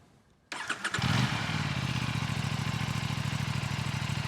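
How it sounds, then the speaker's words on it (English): A 2024 Aprilia RS 457 motorcycle with an underbelly exhaust fires up after a half-second of quiet, then settles into a steady, close, even idle burble that carries on alone. "I know you want to listen to the exhaust note and this is how it sounds."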